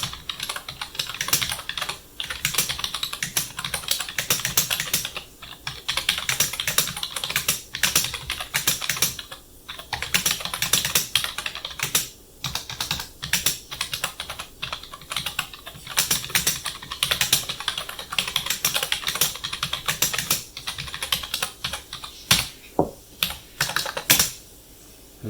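Steady, fast typing on a regular rubber dome keyboard, close and continuous for the whole stretch with dense keystrokes, short pauses and no talking.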